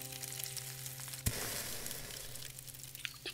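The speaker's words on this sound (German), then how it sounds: "Ich kann mir auf jeden Fall noch was brutzeln hier" Food sizzles in a pan in the survival game Above Snakes, a soft, steady crackle with a sharp click partway through and a faint background tone, quiet and with no voices.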